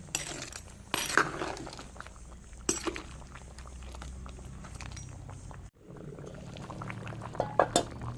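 A pot of curry with pumpkin and crab bubbles steadily on the boil, a quiet continuous simmer with a few louder splashes and clinks of a utensil against the pot scattered across it.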